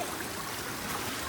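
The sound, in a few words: flood water flowing along the street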